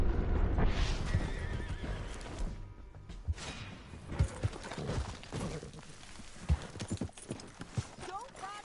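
Horse in Red Dead Redemption 2 neighing with a whinny and clip-clopping hooves, punctuated by thumps and game effects, while someone talks over the action.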